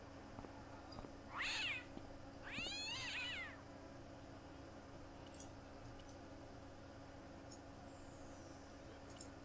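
Two short meows from a cat in the adventure game Broken Sword: Shadow of the Templars, clear over a steady low background hum, the second drawn out a little longer, then quiet hum for the rest.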